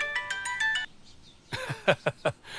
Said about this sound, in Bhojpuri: सिद्धार्थ साहब का फोन